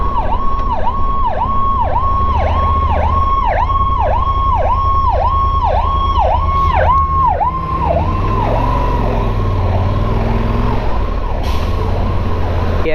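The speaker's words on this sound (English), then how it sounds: "we have a fire truck behind us" A fire truck siren wails close behind on a city street in Southeast DC, its rising and falling cycles loud and steady before shifting to a slower yelp as it moves past, with low traffic rumble underneath.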